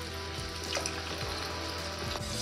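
Keto candy mixture of allulose, heavy cream and vanilla cooking on the heat, a soft continuous bubbling sizzle with faint whisk scrapes, fairly quiet and steady, no voices.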